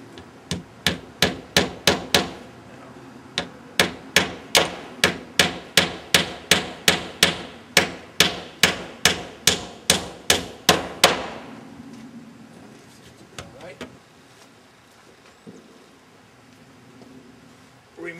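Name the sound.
hammer nailing wood on a roof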